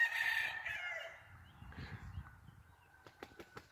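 A roundhead gamecock rooster crows once, loud and close, then fades into soft clucks and low rustling, followed by a few sharp taps and scratches near the end.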